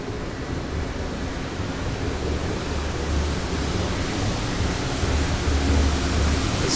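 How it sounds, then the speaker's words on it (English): Street sweeper brushes running on a Manhattan street give a steady broadband rushing, scraping roar with low rumble, continuous and fairly loud throughout, with no talking. "The street sweepers here, that's what that noise is."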